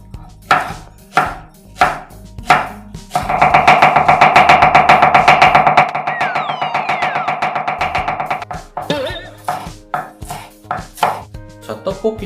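Green onion (daepa) being chopped with a knife on a cutting board for tteokbokki: sharp, loud, close knocks, first spaced, then a fast continuous burst of rapid chops, then spaced strikes again.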